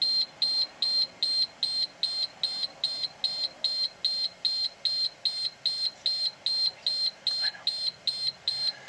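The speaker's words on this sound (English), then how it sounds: "I know, the beeping is annoying." Rapid steady warning beeps repeat throughout, loud and even, during an air brake test on a bus, with a low rumble of idling machinery beneath.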